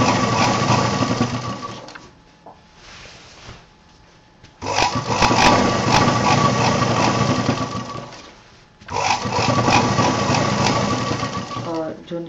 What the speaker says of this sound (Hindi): जो बेल्ट अभी जोड़ते हुए हम आए थे उसका जो दूसरा साइड है ये भी एक साइड हमारा छूटा हुआ है इसको हम सिल देंगे